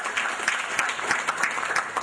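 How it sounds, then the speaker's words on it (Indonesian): Applause from an audience at a book discussion event, dense steady clapping with no voices over it, running the whole moment at a moderate level. "tepuk tangan buat Masuk."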